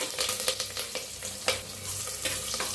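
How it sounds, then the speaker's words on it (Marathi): Green chili and curry leaves sizzle in hot tempering oil with mustard seeds and asafoetida, a dense close crackling hiss with sharp pops and stirring scrapes. "तर छान बसले बघा फोडणी बघू शकताय तुम्ही"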